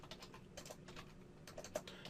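Fingers tap a computer keyboard during a space strategy game session, a quiet run of close, irregular keystrokes with a few sharper clicks and no voice.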